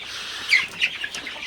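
Sonali super hybrid chickens, thirty-eight days old, clucking on a farm, with several short chirpy clucks in quick succession, moderately close and heard without any talk.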